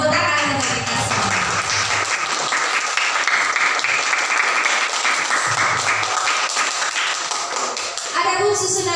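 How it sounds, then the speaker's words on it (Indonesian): Loud, dense applause from an audience at an indoor discussion session, hands clapping steadily for several seconds before a speaker's voice returns at the end. "Tepuk tangan untuk kita semua."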